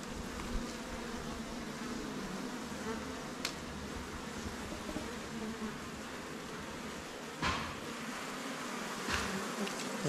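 Honeybees swarm around a hive at a Kerala bee farm during honey harvesting, their dense, steady buzz filling the air without pause and rising slightly at moments, with no voices.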